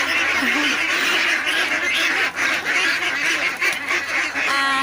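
A flock of ducklings quacking and peeping continuously at evening feeding, a busy, dense chatter of small birds close by with no talking.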